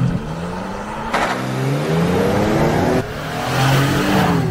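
A Nissan Frontier Hardbody pickup accelerates hard during a 0-60 run, engine rising in pitch through two gear shifts, loud and close with no talk.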